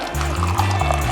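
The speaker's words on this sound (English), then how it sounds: "Once that turns blue, then you can press it and water comes out" Water dispenser at a CrossFit gym filling with a steady liquid stream, a continuous close pouring and gurgling that runs the whole moment under a low mechanical hum.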